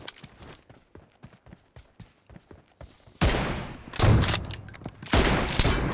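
Gunfire in PUBG Mobile, starting as a rapid run of sharp, lighter shots and then turning into loud, dense bursts of heavy automatic fire and blasts.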